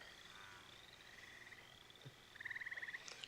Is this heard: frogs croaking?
yes